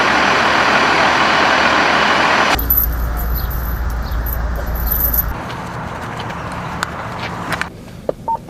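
A truck engine rumbles steadily nearby, loud at first and then dropping to a quieter idle, with scattered clicks and jingles over it.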